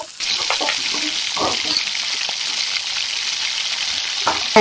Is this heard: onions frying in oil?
yes